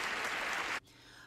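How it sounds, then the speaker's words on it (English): A game show studio audience applauds for two players in a brief, full burst that cuts off abruptly, leaving quiet room tone. "would you join me in a little applause for our two players here, Sandy Corey and Kendra Plummer"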